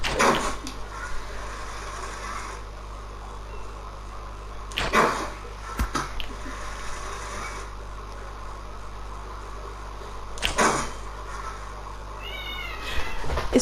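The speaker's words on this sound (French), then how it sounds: "J'ai ma fille qui attaque mon chat." A house cat meows repeatedly while a small child grabs at it, with sharp yowls standing out over a steady background hum across the span.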